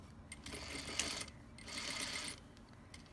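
A home sewing machine stitches a gathered dashiki skirt near an invisible zipper, running in two short, quiet bursts of rapid mechanical whirring separated by a brief pause.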